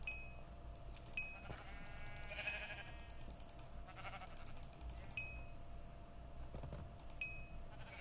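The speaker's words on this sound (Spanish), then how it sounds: "Las ovejas aparecen." Sheep bleating in the video game Minecraft during a party minigame, several short bleats spaced through the clip over a steady low background hum.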